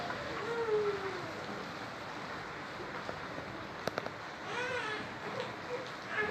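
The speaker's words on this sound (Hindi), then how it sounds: "देखिए बाहर कितनी ज़्यादा बारिश हो रही है, अभी भी फिर से बारिश होने लगी है।" Heavy rain mixed with hail pours down outside in a steady, dense roar, with a few sharp impacts standing out briefly. A voice speaks faintly beneath the downpour.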